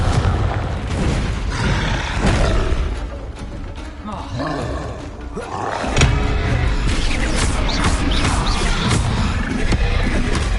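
A Confringo explosive spell in the Hogwarts Legacy video game sets off loud, booming blasts and roaring rumbles. The sound stays dense and continuous, with heavy impacts, and a voice speaks over part of it.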